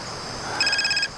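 A telephone starts ringing partway through, giving a short burst of rapid electronic warbling pulses that is loud and clear over a quiet room.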